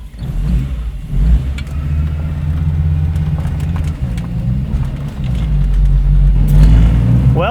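A rebuilt Audi Quattro engine fires up and runs, holding a loud, deep, steady idle rumble close by that swells near the end with light revving, and no one speaks over it.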